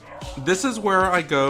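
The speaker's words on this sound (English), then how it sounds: "if you guys hear dogs barking in the background" Crazy household dogs bark and yip in the background during a discussion of a superhero power expansion set, the sharp barks sitting close beneath continuous talking.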